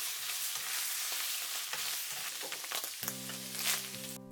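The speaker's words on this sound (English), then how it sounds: "Briefly stir and turn off the heat." Ramen ingredients with seasoning sauce and a splash of sesame oil sizzle softly in a hot pan as they are stirred, with quiet scraping, followed by a brief steady tone.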